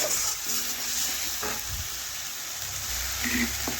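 Mustard and poppy seed paste with pepper and garlic paste is stirred into onions in a frying pan for a fish curry, with a soft continuous sizzle and a few spatula scrapes, close and moderate.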